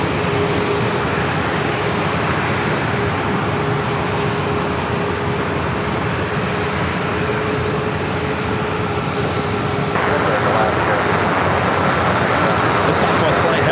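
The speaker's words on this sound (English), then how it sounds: "Southwest flight heading to Sacramento, flight 2302, a 737 MAX 8" A Southwest Boeing 737 MAX 8 jet roars loudly at San Diego airport, a dense, sustained engine rush filling the scene without a break, with a slight shift in tone near the end.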